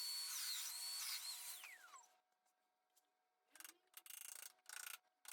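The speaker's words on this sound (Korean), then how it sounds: "문짝 아래쪽에 양쪽 두 군데를 파줍니다. 문짝을 돌려가면서 파냅니다." A power tool cuts grooves into the bottom edge of a wooden sliding door, a loud whining cut for about two seconds, then a pause before several short bursts of cutting.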